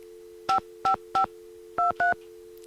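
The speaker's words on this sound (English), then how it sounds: "I'm going to phone Elsa and ask who dis." A phone in the Nancy Drew game The White Wolf of Icicle Creek dials: five crisp, loud DTMF keypad beeps in two quick groups of three and two, over a steady tone.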